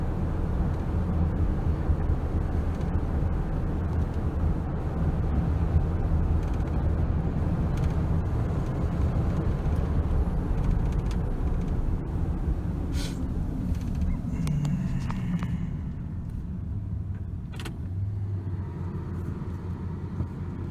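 A 1995 Ford F150 pickup drives along a street after a Seafoam engine treatment, its steady low engine rumble and road noise filling the cab, then easing off toward the end.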